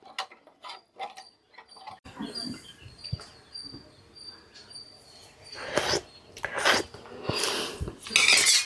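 Moong dal kichidi is stirred in a pot with a few scraping clinks, then a metal lid is set down with sharper clattering knocks near the end, close and clear with no talk.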